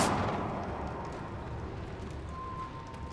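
A Confringo blasting spell explodes in Hogwarts Legacy, a loud burst at the start that decays into a rumbling tail with a faint lingering tone, no talk.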